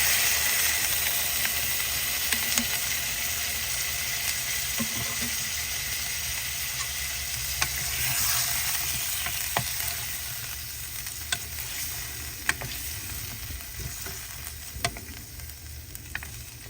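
Water poured into a hot pan of stir-fried soft pork bones with sugar and garlic, producing loud, steady sizzling throughout, with occasional scraping and clinking from stirring, close and continuous with no speech.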